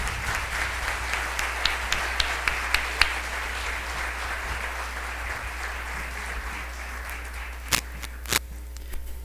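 Steady applause from a church congregation, a continuous wash of clapping with a low hum beneath and a few sharper claps near the end.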